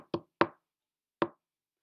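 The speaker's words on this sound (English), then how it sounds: "Soon there was a knock at the door." Three sharp knocks on a wooden door for a Little Red Riding Hood story, two close together then one after a pause, crisp and near in otherwise silent surroundings.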